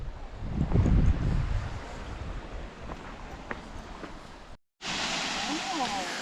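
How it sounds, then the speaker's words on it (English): Dain Thlen waterfall in Cherrapunji, a steady distant rush of water mixed with gusty wind buffeting the microphone, with a short dropout near the end before the rushing resumes. "this is the Dathlan waterfall for you"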